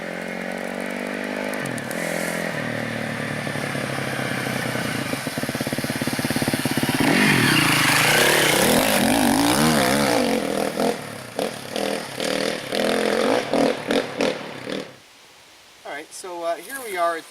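Children's dirt bike engines on a track buzz and rev continuously with changing pitch, loud and close at times, with some voices under the noise before it drops away near the end.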